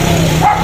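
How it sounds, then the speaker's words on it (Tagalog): Dogs barking: a short, loud burst of canine yipping and whimpering, close by, lasting under a second. "Ang gaganda ng aso nila."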